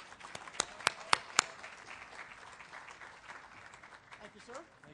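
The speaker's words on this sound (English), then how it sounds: "let's all give a round of applause to our host with the most" An audience at an award event applauds the arriving host: a few loud isolated claps near the front over a thin wash of distant clapping, with people talking underneath.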